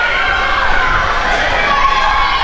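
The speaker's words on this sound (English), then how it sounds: "The crowd hates him." A wrestling crowd at a Smash Wrestling show reacts noisily to a heel wrestler, a dense, loud wall of shouting and jeering voices that runs steady for a couple of seconds.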